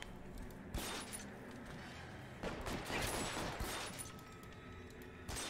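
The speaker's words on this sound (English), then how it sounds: "He shot my hat off." A faint gunfight in a video game, with scattered distant shots and crackling bursts under a steady background bed, and no talking.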